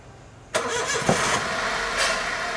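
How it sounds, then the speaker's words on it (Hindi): A car engine with a noisy belt problem cranks and catches after a quiet lead-in, then settles into a loud, close, steady run with a brief rise near the end; no one speaks. "अभी कार स्टार्ट हो चुकी है और मैं आवाज़ सुना देता हूँ इंजन का।"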